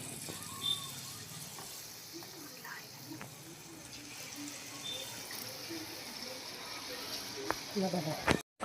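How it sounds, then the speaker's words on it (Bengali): Palm fruit fritters (taler bora) dropped a little at a time into hot oil, giving a steady soft sizzle and bubbling through most of the stretch, with a sharper burst near the end. "দেখো তেল গরম হয়ে গেছে তালের বড়াগুলো আমি একটু একটু করে ছাড়বো"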